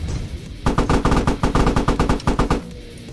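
Rapid bursts of heavy automatic fire in Squad, aimed at a T-80 tank: about fifteen evenly spaced loud thumping shots in quick succession, with a short pause partway through and a dull hum between.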